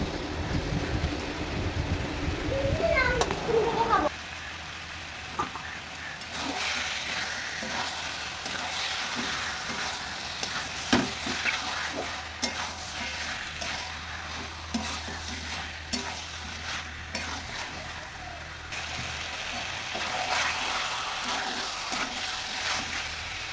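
Chicken pieces going into spiced masala in a pan, with a loud splash-sizzle at first, then steady frying and scraping stirs carrying on alone throughout.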